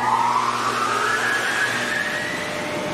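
A Porsche 911 drives past with a loud, steady engine note whose pitch rises gradually, accompanied by road and wind noise throughout.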